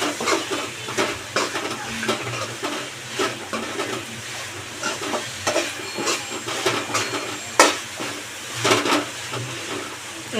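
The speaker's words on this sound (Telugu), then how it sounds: "కాస్త వేగాలి నూనె పైకి రావాలి" Prawn biryani masala with mint fries in oil while being stirred, giving a continuous sizzle and hiss broken by frequent scraping and clattering strokes of a spoon against the pot.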